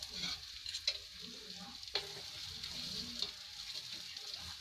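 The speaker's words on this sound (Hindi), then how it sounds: "इसको भून रहे हैं मूंग की दाल के पेस्ट को घी के साथ" Moong dal paste frying in ghee in a pan, a soft steady sizzle with occasional scraping stirs and light pops, fairly quiet and close, with no talking.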